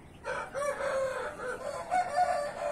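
Rooster with a large, erect comb crowing at moderate distance, one drawn-out call with a wavering tone, fairly faint over a background hiss.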